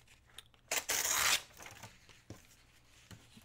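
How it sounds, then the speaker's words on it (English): Printed copy paper torn off in one quick rip while making a paper bag clutch for a journal, a loud burst of about half a second, followed by quieter rustling and small handling taps. "I'm gonna tear it off right there."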